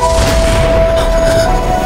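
An exploding orchid in a fantasy film, heard as a loud, sustained rumbling blast with a ringing tonal hum running through it.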